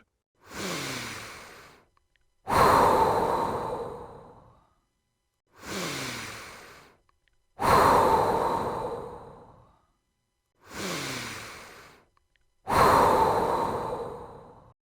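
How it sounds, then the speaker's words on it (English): Slow, deep breathing alone in a quiet room: three long cycles, each a softer inhale followed by a louder, drawn-out sighing exhale, evenly spaced with brief silences between. "Take a moment to breathe in and breathe out."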